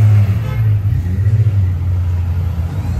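A Porsche GT3 RS sports car engine drones loud and steady at a race circuit, a low sustained rumble with slight pulsing over three seconds and no talk.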